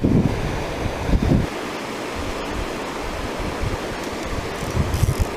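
A waterfall on a camping and fishing trip, heard as a continuous broadband rush of falling water with wind buffeting the microphone, no voices.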